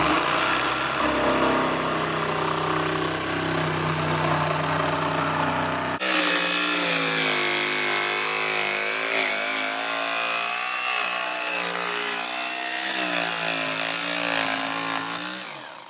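Jigsaw cutting through material with a continuous loud buzzing drone that shifts pitch partway through as the cut continues, close and sustained.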